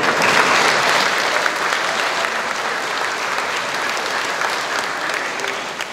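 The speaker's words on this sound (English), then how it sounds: "Please give a round of applause to Mr." Steady audience applause at a school charity concert, a dense, loud wash of clapping that holds evenly for several seconds before tapering slightly.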